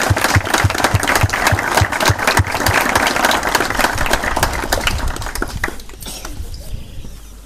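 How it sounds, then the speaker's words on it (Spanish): Audience applause at a Rotary club inauguration ceremony for a multipurpose hall, offered for the flags on display; steady dense clapping with rhythmic low thumps, thinning out toward the end. "Les pido un aplauso para todas las banderas aquí presentes"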